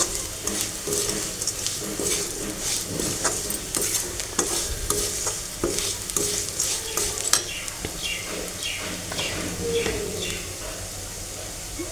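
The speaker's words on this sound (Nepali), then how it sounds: "यति राखेर यसलाई यसरी सबैतिर मिक्स गरेर चलाउने राम्रोसँग।" A spoon stirs a jaggery and cinnamon powder mixture in a pan for a home cold remedy, giving continuous scraping strokes over a soft, steady sizzle, close and alone.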